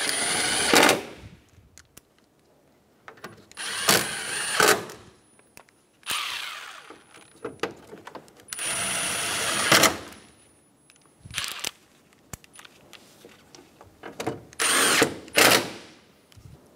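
A power tool drives bolts into the AC condenser of a 2012-2020 Chevrolet Sonic: several loud, close whirring bursts of a second or two each, separated by quiet pauses and small clicks.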